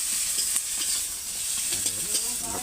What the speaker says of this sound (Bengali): পেঁয়াজটা এমন ব্রাউন কালার করে নেবেন।